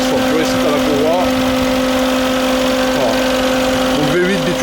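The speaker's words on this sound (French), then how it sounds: "c'est un moteur de G63 AMG normal, sauf qu'il est posé 1 mètre au-dessus d'un autre G63" A Mercedes G63 AMG 6x6 with a 570-horsepower V8 biturbo idles steadily with a constant tonal drone, while someone talks over it throughout.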